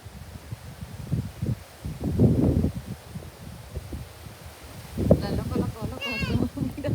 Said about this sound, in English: It's nice weather but windy.